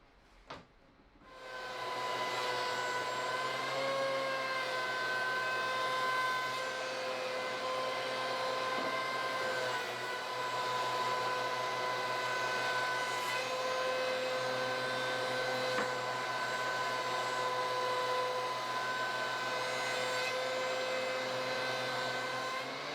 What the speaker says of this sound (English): The tabletop needs some planing.